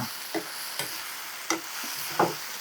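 Onions frying with a little garam masala in a pan, a steady soft sizzle broken by a few separate scraping stirs, close and fairly quiet with no voices.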